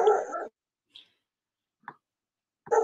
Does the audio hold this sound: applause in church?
no